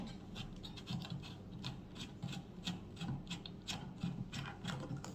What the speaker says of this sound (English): So I'm going to screw this out.